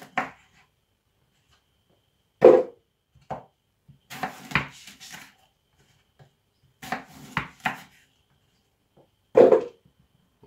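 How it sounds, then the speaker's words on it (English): Apple being cut up on a cutting board for broccoli juice, with several separate knife chops and thuds spread across the moment, close and fairly loud with quiet gaps between strikes. "Just cut up the apple"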